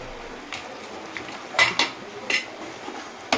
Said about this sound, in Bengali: এবার এর মধ্যে দিয়ে দেব, তো এর মধ্যে ভেজে রাখা কাতলা মাছের মাথাটা আমি দিয়ে দিলাম।